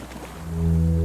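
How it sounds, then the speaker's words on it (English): Distant cargo ship signal horns from the Disco Elysium video game swell into a deep, sustained low tone that echoes over water, rising steadily in loudness against a dull ambient background, with no speech. "The distant sound of cargo ships. Signal horns echo on the water."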